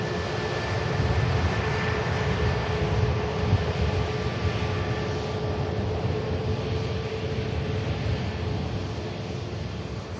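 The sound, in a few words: EasyJet aircraft returning from Amsterdam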